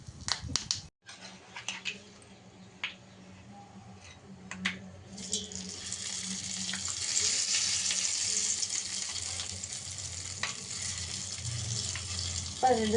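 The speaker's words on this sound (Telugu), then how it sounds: "పోపు అయితే రెడీ అయిపోయింది ఇప్పుడు రెండు చట్నీలు మీద వేసుకున్నాం" Hot popu tempering of spices in oil poured over two chutneys, followed by a steady, close sizzle that swells and holds for several seconds after a few clinks, with a voice talking alongside.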